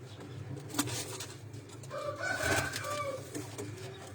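Chinese pigeons in a breeder's cage coo and flutter close by, a soft low warble rising in the middle over faint background chatter and rustling.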